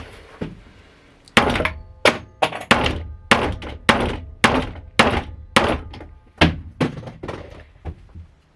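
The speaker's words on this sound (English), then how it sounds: "the hammering ended up working pretty okay" Repeated sharp hammer blows while installing a skylight in a school bus conversion, about a dozen strikes in an uneven rhythm, close and loud, with brief pauses between bursts.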